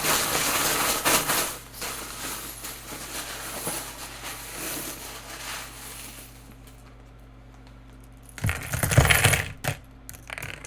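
Small hard charms clink and rattle together while being shuffled, fading to quiet handling before a final burst of jingling.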